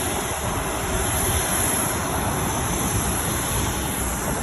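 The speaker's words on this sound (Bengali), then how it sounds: "এই যে বিমানের একটা নামছে" Airplane descending to land at JFK airport in New York City, a broad steady roar of jet engines heard from outside at some distance, constant and unbroken for several seconds with no talking.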